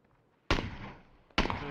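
Two sharp, loud grenade blasts in PUBG, about a second apart, each a sudden broadband boom that decays into a rumbling tail, with no talk over them.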